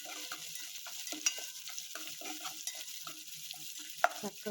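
Green chilies, curry leaves, dried red chilies and chopped onion sizzle steadily in hot oil as a tempering, with a spoon stirring and scraping the pan in irregular bursts; close and moderately loud, no talking.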